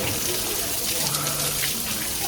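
A shower runs after a sauna session at a wellness spa, giving a steady, close hiss of falling water with no voices throughout.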